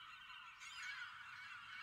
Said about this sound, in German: Ich kann nichts hören, weil die Möwen so laut sind.